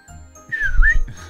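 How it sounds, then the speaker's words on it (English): A finger whistle in the visual novel video game Clannad, one loud, brief, clear whistle that dips in pitch and then rises again. "She's whistling with her fingers?"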